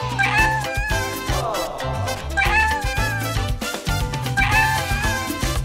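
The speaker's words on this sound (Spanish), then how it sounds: "¡Amo a los gatitos!" Kittens meow in repeated high, wavering cries over loud, continuous backing music.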